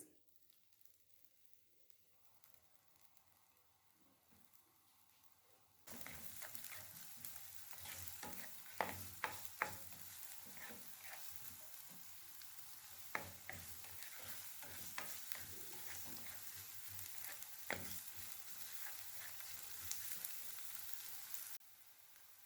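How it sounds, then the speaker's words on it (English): Ingredients for egg muffins hit hot oil and break into a loud, steady sizzle after a quiet start, with repeated clacks and scrapes of stirring punctuating the hiss, close and without talk. "we are going to fry our ingredients"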